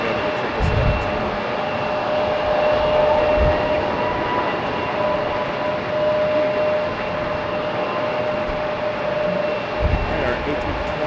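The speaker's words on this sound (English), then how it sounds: "Our A321 Neo on the move." An Airbus A321neo airliner taxiing at Raleigh-Durham International Airport, with a steady engine hum and tonal whine holding at moderate loudness throughout and people talking over it.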